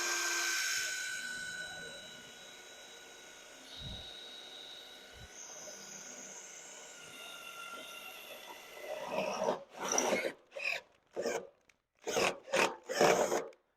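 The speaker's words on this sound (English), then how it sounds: "we're just going to drill a hole in this bumper" Power drill boring a hole through a Ford F-250 steel bumper, heard as a series of loud, harsh grinding bursts that start and stop several times, after a quieter stretch of rasping workshop noise.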